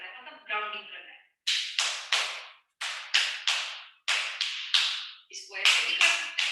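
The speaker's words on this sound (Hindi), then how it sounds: "अभी आप लोगों को 9 टाइम्स ताली बजा के एनर्जी को थोड़ा सा अलग करना है" Hands clap in an OM grounding session, nine sharp claps heard up close in a steady rhythm, grouped in short bursts with brief pauses between them, alone without talk.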